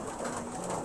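Eurasian tree sparrows flocking and bathing in a stream, heard as a steady wash of soft chirps and cooing-like calls over a constant bed of outdoor noise.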